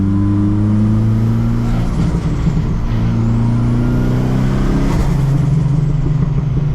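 A built Nissan S15 pulls gently away from a standstill, its engine droning loud and close from inside the car as revs climb steadily through the gears, with a short rise and dip partway through and no voices.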